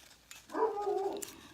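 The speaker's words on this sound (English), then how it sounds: "Sorry about the dog next door." A neighbour's dog next door gives a single drawn-out bark or whine, somewhat distant and moderately loud, in an otherwise quiet indoor setting.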